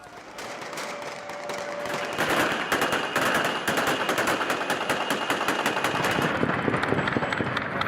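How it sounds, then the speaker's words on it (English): Rapid, sustained bursts of celebratory gunfire as rebels shoot into the air in Syria, with dense overlapping cracks that build in intensity and continue without pause. "The rebels fired their guns into the air."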